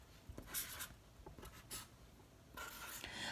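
Marker scratching on sticky notes during a math multiplication lesson, several short squeaky strokes in quick bursts, close and fairly quiet, with pauses between marks.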